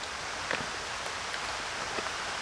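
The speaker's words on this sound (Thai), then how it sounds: "ฝน ฝนแย่มาเลย" Steady rain falls outdoors while fish is being prepared for sun-drying, forming a constant broadband hiss with a few soft patters and drops standing out, close and even throughout.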